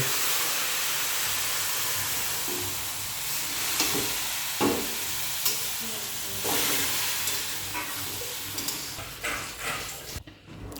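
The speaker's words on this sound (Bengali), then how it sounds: "চালটা হয়ে গেছে মোটামুটি ফ্রাই করা এখন জলটা দিয়ে দেওয়া হচ্ছে" Water poured into a pot of frying rice for basanti pulao sets off a loud hissing sizzle that gradually settles, with stirring clatters and scrapes in the pot toward the end.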